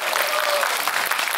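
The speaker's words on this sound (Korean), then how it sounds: "촬영 때 못 온 우리 전두광 황정민 배우를 위해서 박수 한번 쳐주시고" A theater audience at a film stage greeting for the movie 12.12: The Day (서울의 봄) applauds steadily, a dense, even wash of many hands clapping that fills the space without pause.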